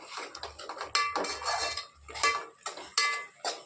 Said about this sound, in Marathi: एक ते दीड चम्मच मीठ टाकले आता हे छानसं परतून घेणार आहोत